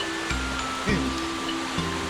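Waterfall at Yongtang pool in the Sibiseonnyeotang valley of Seoraksan, a steady broadband rush of falling water, loud and continuous, with a few brief low thumps and shifts in the roar.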